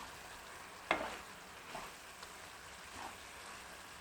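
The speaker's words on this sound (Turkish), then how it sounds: "Tereyağı eriyene kadar karıştıracağım" Butter melting in a hot pan with cooked eggs, a faint steady sizzle under one sharp spoon knock and a few soft stirring scrapes.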